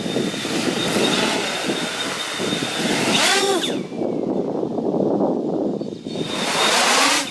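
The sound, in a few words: iFlight X-Class 8S FPV drone full throttle pass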